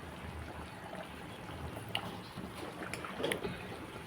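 Tamarind fish curry with raw mango boiling in a pot, a soft bubbling and gurgling simmer with a few light knocks, close but quiet.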